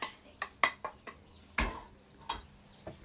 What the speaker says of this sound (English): Scrape around the pan.